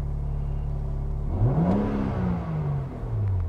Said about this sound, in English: You heard that motor just cool off a little bit.